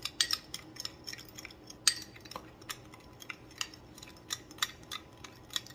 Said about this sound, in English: we're going to go in with half of a tablespoon of ground cinnamon. And we're just going to stir that together.